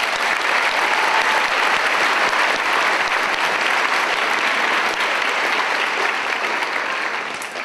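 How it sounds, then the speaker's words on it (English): A school audience at a veterans program applauds steadily, a dense, loud wash of many hands clapping for several seconds before easing off slightly at the end. "Let's give them another big round of applause."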